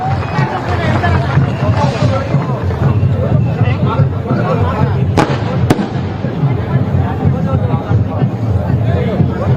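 A big crowd at a political rally in Sukma with Mallikarjun Kharge claps loudly and continuously, a dense, close wash of applause mixed with crowd noise and a couple of sharp cracks.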